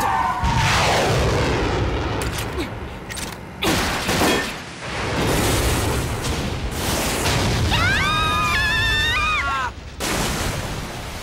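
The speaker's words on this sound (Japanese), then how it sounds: "ミサイル発射。" A missile-launch and explosion sound effect plays as a loud, heavy mechanical whoosh and booming rumble, followed by a rising warbling electronic tone and further blasts.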